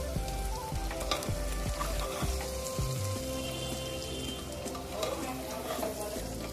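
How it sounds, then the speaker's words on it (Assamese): Duck meat sizzles and spits as it dry-fries in a hot pan while a utensil scrapes and stirs it, with a few sharp clatters; no voices. "এয়া মাংস শুকান ভাজি হৈ গ'ল"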